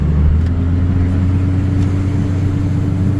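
A vehicle towing a trailer gears down to climb a steep 12% grade, its engine a loud, steady low drone with a sustained hum throughout.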